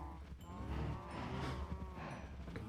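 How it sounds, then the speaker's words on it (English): A large herd of cows in the Minecraft video game moos over and over, with overlapping calls that are close and fairly faint, and no talking. "Oh god, there's so many cows."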